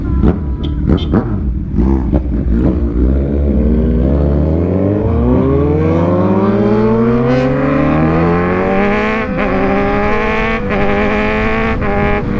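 A Kawasaki Z1000 with a single exhaust pipe roars loudly and close while being ridden, its engine note sweeping up steadily through the gears across the whole stretch with no talk.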